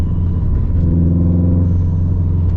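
A Subaru STI Baja pickup's engine drones steadily while driving, a loud, continuous low rumble with a faint rising harmonic sweep, heard close and alone throughout.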